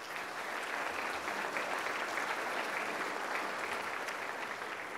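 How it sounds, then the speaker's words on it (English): Steady applause from an audience, a dense, even wash of clapping that holds throughout without letting up. "deserve a round of applause for that"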